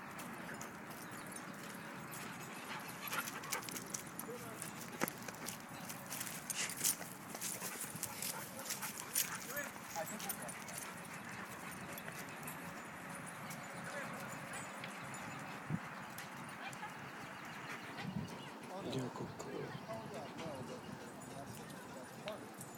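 Dogs at a park, heard faintly amid continuous outdoor ambience with a person talking over it, occasional soft whimpers and yips coming through now and then.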